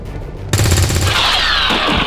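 Loud burst of gunfire in the video game XCOM 2: Long War 2 erupts after a quiet start, a rapid rattling volley followed by a ringing, echoing tail.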